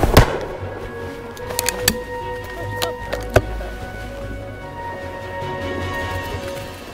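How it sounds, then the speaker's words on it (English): Shotgun fired during snap shooting on a Welsh mountain shoot: several sharp, loud reports in quick succession over the first few seconds, then open outdoor ambience with faint background noise. "It's quite a nice little bit of snap shooting actually now."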